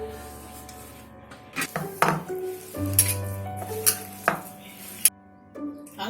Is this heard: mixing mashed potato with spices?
yes